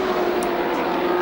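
A helicopter filming a 1986 Sandown touring car race gives a steady, loud droning roar with a constant tonal hum, heard briefly and without talk.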